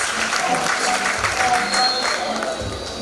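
A pageant audience applauds a contestant at the Miss Caribbean Culture event, a full continuous wash of clapping with faint crowd murmur and brief voices mixed in.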